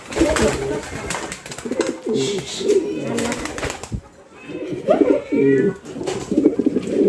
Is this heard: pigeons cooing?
yes